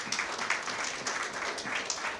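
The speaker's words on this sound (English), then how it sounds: "Give him a round of applause." An audience at a central bank monetary council chairmanship ceremony gives brief, moderate applause, with a short run of scattered claps at medium level.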